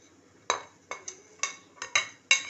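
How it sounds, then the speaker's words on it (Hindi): Black pepper is crushed by hand for an eggplant curry: about seven sharp, hard knocks land in an uneven rhythm, close and clear against a quiet background. "एक चम्मच काली मिर्च कूट लें।"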